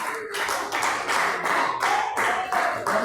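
Church congregation claps in unison during a worship service, each rhythmic burst of hand claps close and bright, repeating in a steady pulse with a faint sung or spoken tone underneath.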